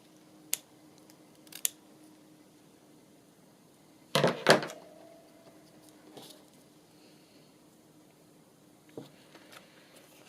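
Scissors trim a piece of fabric for a music journal with a few scattered, quiet snips and one brief cluster of sharper cuts, close up in a quiet room.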